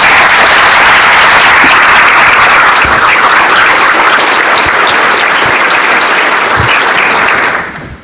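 A large audience applauds steadily to welcome keynote speaker Patrick Dillon at a Light of Hope event, dense clapping filling the room for about seven seconds before fading out quickly at the end.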